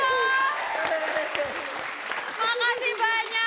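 A studio audience at a comedy talk show claps in a continuous burst of applause, with loud voices calling and whooping over the clapping.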